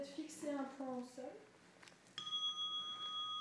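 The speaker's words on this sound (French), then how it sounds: "Un son de cloche" A meditation bell is struck once and rings on with a clear, sustained metallic tone that hangs steadily after a voice, sounding close and bright as it slowly fades.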